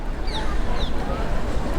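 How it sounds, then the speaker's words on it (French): A bird chirps twice in quick rising calls on a beach, short and fairly clear above steady wind and surf noise, with a faint murmur of people in the background. "Il y a un oiseau là"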